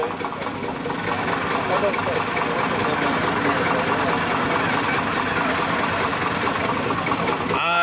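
A vintage tractor engine runs steadily at the Holcot steam rally, a loud continuous rumble with a busy outdoor crowd murmur and voices mixed in throughout.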